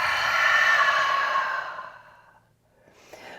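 A long, breathy exhale during a yoga session, close and soft, swelling then fading out over about two seconds, followed by a quieter breath.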